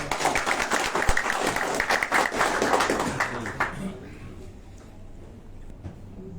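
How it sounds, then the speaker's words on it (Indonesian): Dense applause from an assembled crowd at a Persebaya club gathering, loud and sustained for about four seconds before fading into quiet room noise. "saya minta tolong semuanya tepuk tangan kami ini"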